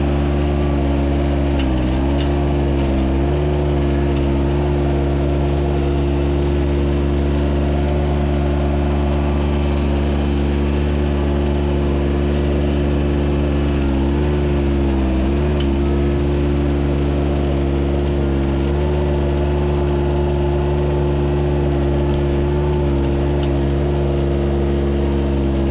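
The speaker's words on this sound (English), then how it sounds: "We're gonna take the tractor," A John Deere 755 compact tractor's engine runs steadily and close by while pushing a brush pile, a constant low drone with slight load surges throughout, no talking.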